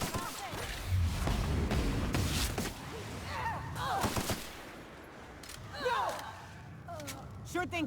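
Gunfire in the video game The Outer Worlds, scattered loud shots and bursts mixed with game voices and effects, with speech throughout.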